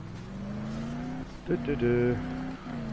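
A car in the zombie video game Dead Island Riptide pulls away, its engine droning steadily, then revving higher with tire noise and a brief squeal, all under a voice talking over it.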